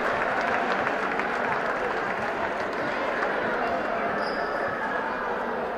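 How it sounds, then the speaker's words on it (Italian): Spectators at a sports memorial tournament prize-giving, held in an echoing gym, applaud the event's staff with a continuous roar of clapping and crowd noise, steady and loud throughout, with voices blended underneath. "Un applauso alle nostre collaboratrici."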